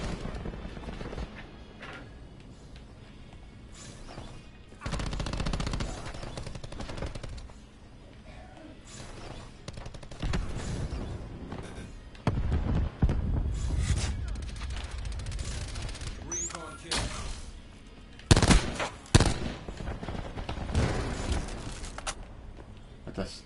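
Bursts of gunfire in Call of Duty Black Ops 4 hardcore online play, with scattered shots and louder clusters over a steady game background, loudest near the end, as a person talks intermittently.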